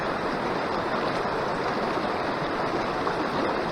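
A river rushes over rocks in a steady, close, full-bodied wash of water, continuous and unvarying, heard alone without voices.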